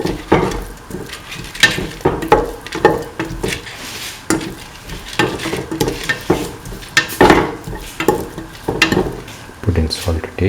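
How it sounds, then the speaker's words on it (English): Tomato rice with mint being stirred and salted in a pan, a spoon scraping and clinking in repeated strokes against the metal over a low sizzle, close and steady with no voices. "Mix in the salt."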